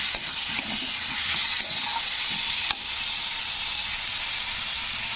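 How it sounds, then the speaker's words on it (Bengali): Ginger garlic paste frying with onions in a pan, a loud, continuous hissing sizzle with a few sharp clicks of a stirring spoon early on. "এরপরে আমি দিয়ে দেবো 1 চামচ আদা রসুনের পেস্ট। তো দিয়ে এটাকেও কিন্তু নাড়তে হবে।"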